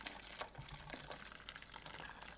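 Just-boiled water pours over jars of homemade yogurt in a pot, a faint, close splashing trickle that continues for a couple of seconds.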